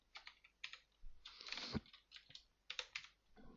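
Computer keyboard typing while entering Pascal code, quiet irregular bursts of key clicks with short pauses, heard close and faint.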